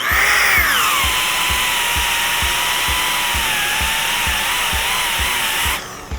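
Cheap random orbit power sander from Lowes grinding hard into a wooden board, a loud continuous whining buzz with a rhythmic low thumping that runs for several seconds before cutting off.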